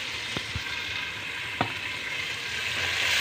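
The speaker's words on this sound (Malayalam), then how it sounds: "അതിലേക്ക് തന്നെ ഞാനൊരു സവാളയും ഒരു 2 പച്ചമുളകും വെച്ചിട്ടുണ്ട്. അതൊന്ന് വഴറ്റിയിട്ട്" Onion and green chillies sauté in a pan with a continuous bright sizzle. A couple of faint spoon scrapes cut through it, and no voices are heard.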